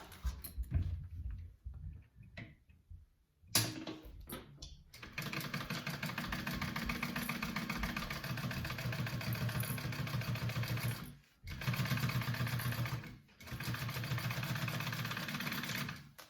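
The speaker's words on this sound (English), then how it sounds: "You're going to sew that on at a 1/2 inch seam allowance" A sewing machine stitches a seam on a fabric wallet, running in long steady rapid-fire bursts with brief pauses between, loud and close, after a few seconds of quieter handling noise.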